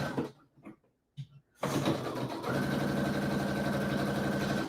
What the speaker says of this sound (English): I'm just sewing the sleeves in now.